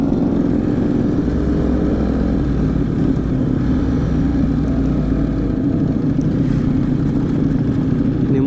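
A Ducati 848 EVO motorcycle engine drones steadily and loudly close by, a continuous low rumble with faint wind noise that holds throughout without a clear rise in pitch.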